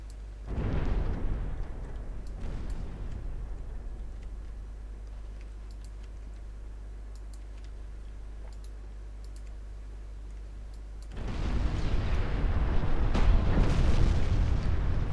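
A warship in the naval game Ultimate Admiral Dreadnoughts explodes in a flash fire: a deep booming blast rises and settles into a long low rumble, then a second heavy roaring surge of fire swells near the end.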